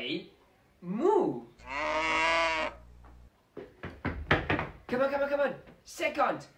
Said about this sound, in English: Yes, they moo.